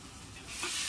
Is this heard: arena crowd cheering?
no